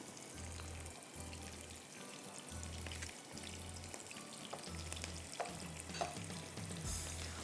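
Chopped garlic fries in a pan for Chiang Mai noodles, a soft steady sizzle with faint stirring clicks, heard alone with a low intermittent hum pulsing underneath.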